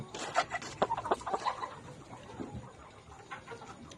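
Vaccinated layer hens cluck close by in quick, uneven bursts, several birds overlapping in a short flurry of clucks and squawks, then quieter scattered calls.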